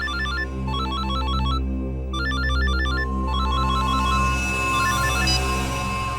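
A phone rings with a repeating electronic ringtone pattern, steady and fairly loud over a constant low hum, with no talking.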